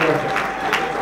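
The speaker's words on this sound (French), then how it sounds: "Je vous demande de l'applaudir chaleureusement." A crowd at a political party gathering applauds warmly for a senator, a dense, continuous wash of clapping with a hint of voices mixed in.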